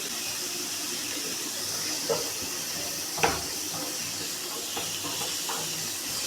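Sliced onions with a pinch of salt sizzle in a pan over a medium flame, a soft, steady frying hiss with a few faint stirring clinks.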